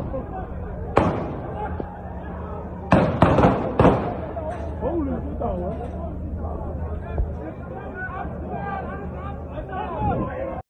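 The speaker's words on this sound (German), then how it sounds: "Ihr hört, wie viele Schüsse hier gefallen sind" Several sharp gunshots ring out in quick bursts on a Hamburg street, loud and close, followed by agitated crowd chatter and shouting voices.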